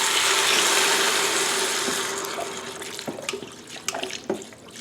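Broth poured into a pressure cooker over layered pasta ingredients, a steady liquid splash that fades gradually, followed by a few faint knocks and clinks near the end.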